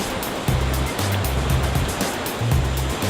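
Gushing river water rushes loud and constant past massive boulders on a river in Samar, with a low droning hum that pulses on and off beneath the roar.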